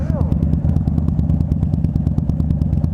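A Harley-Davidson Dyna Street Bob engine lumbers at idle with a loud, close, uneven pulsing thump and mechanical clatter throughout, with a voice briefly audible over it.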